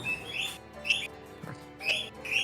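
Small blue bird chirping in short bright bursts, three or four close chirps with brief gaps between them.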